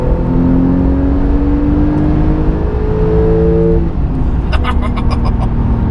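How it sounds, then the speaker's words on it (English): A Porsche 911 GTS engine revs and drones steadily in sport mode with the sport exhaust open, its pitch rising and then dropping, with a brief clicking sound near the end. "Sport mode, exhaust is on"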